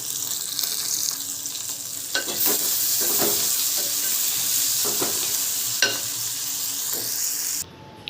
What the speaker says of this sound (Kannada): ಸೊ ನೀಟಾಗಿ ಫ್ರೈ ಮಾಡಿ